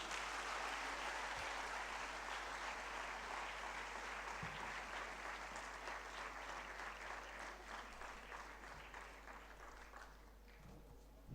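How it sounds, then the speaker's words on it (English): Sustained applause from an audience at a school foundation day celebration, dense steady clapping lasting throughout and slowly tapering toward the end. "I request everyone to please give a round of applause."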